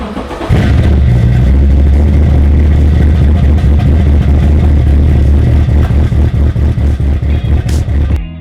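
A 1967 pro-touring Camaro with an LS7 V8 cranks and fires at about half a second, then idles loud and close with a lumpy, pulsing rhythm and repeated blips of revving, alone with no talk.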